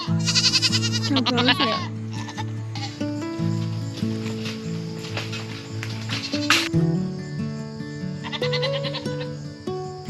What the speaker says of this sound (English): So you're gonna hear some goats.